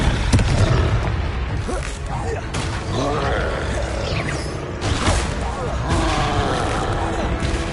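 The Confringo fire spell goes off in Hogwarts Legacy with booming blasts and crackling, whooshing effects over busy game sounds, loud and continuous throughout.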